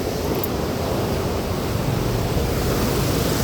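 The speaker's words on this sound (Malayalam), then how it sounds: "നിങ്ങൾക്ക് തൊട്ടിൽപ്പാലത്തെ വെള്ളച്ചാട്ടം കാണണ്ടേ?" The Thottilpalam waterfall rushes in a loud, unbroken hiss of falling water, steady and close throughout with no other sounds standing out.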